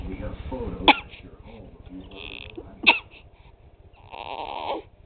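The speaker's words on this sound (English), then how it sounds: "with really bad hiccups" A person with really bad hiccups lets out two sharp, loud hiccups about two seconds apart, up close, with a rough, throaty voice and breathing between them.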